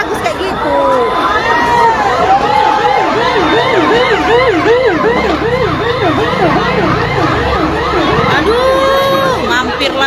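Fire engine sirens wailing loudly and continuously, several overlapping rising-and-falling tones, arriving at a burning market in Siantar, North Sumatra, with a crowd murmuring underneath.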